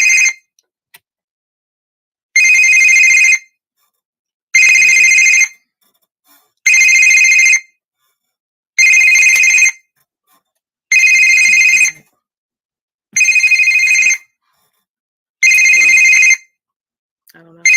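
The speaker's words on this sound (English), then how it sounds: "That really does sound like a phone, but my phone is not ringing." A telephone bell rings in eight evenly spaced bursts of about one second each, loud and close, with near silence between the rings and no voices over them.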